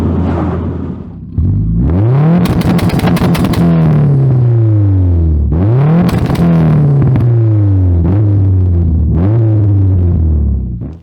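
A built Subaru WRX Bug-Eye engine idles with a low rumble, then is revved repeatedly: several sharp rises in pitch, each falling back toward idle, loud and close with no talking.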